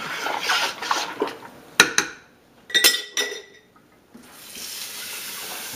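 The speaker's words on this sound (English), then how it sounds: "The idea here is to agitate it to get the yogurt I just added mixed into the" A jar holding a powdered milk and yogurt mixture being shaken to blend it, giving sloshing liquid with glassy clinks and a few sharp knocks in bursts, close and fairly loud, with no speech.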